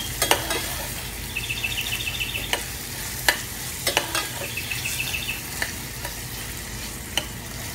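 Onions frying and browning in a pan for a quick egg chutney, a steady soft sizzle running throughout with a few sharp clicks of stirring, no talking.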